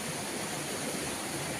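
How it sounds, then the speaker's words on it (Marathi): Spring water is drawn and poured at a farm hut, making a steady, close broadband rush of flowing water that stays even throughout, with no voices. "झऱ्याचं पाणी घेतोय"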